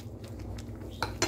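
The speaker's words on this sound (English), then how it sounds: "move our pot from heat so it's not gonna be overcooked" A cooking pot of vegetables clanks against the stovetop as it is moved off the heat, two sharp metallic knocks near the end after quiet kitchen background.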